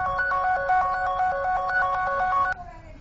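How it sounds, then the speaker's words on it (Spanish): An Android phone, set ringing by a find-my-device app, plays a loud repeating melodic ringtone in quick electronic notes that cuts off abruptly near the end, followed by faint room noise. "empezará a sonar el tono de llamada que él tiene respectivamente o un tono de notificación que viene predeterminado"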